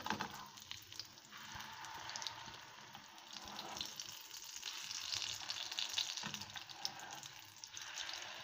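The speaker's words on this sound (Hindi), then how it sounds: "मीडियम फ्लेम पे हम इनको फ्राई करेंगे" Potato cutlets fry in a pan over medium flame, a soft continuous sizzle and crackle, close but quiet, with no talking.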